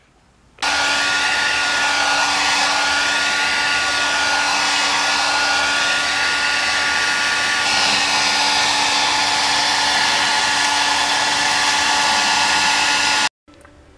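A heat gun blows steadily for about twelve seconds while warming tape on a Ninja motorcycle gas tank, a loud, even whirring hiss at close range that starts and stops abruptly, with no talk.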